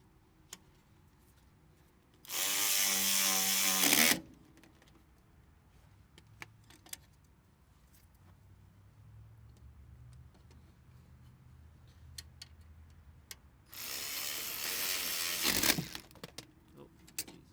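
A ratchet tightening bolts during front brake work on a 2015 Mercedes, two loud bursts of rapid clicking about two seconds each, separated by quieter tool handling and small clanks, with no voices.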